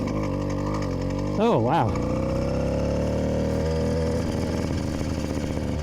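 A Yamaha YD100 motorcycle fitted with a Phantom 85 exhaust idles steadily up close, a brief rev rising and falling partway through, while a voice exclaims briefly over the running engine.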